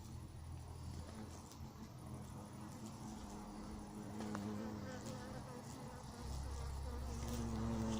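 A hornet buzzes as it takes off and flies away outdoors, a faint, wavering drone that holds over a low background hum, with a voice murmuring softly in the mix.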